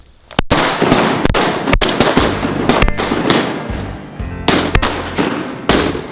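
Shotgun blasts at mallards during a kid's first duck hunt, a rapid series of about a dozen loud, sharp reports fired in quick succession from several guns outdoors, with no talk.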